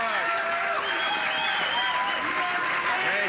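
Long, sustained applause from a television studio audience at a taping of The Man Show, steady dense clapping with some voices mixed in, loud and continuous throughout.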